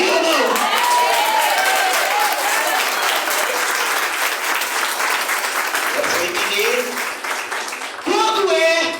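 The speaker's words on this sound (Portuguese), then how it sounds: "Você pode aplaudir ou não?" Church audience applauding loudly in a sustained, dense wash of clapping, with voices calling out and cheering mixed through it and a brief dip before the clapping swells again near the end.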